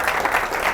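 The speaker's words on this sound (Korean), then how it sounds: "박수 한번 주셔야 되는 거 아니에요?" Brief audience applause at an education forum, a short steady wash of clapping heard close and fairly loud.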